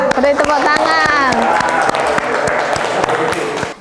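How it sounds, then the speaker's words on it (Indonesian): A classroom audience claps and cheers after a group presentation, with overlapping voices and a brief sustained shout over steady, close, continuous applause. "Ya, beri tepuk tangan."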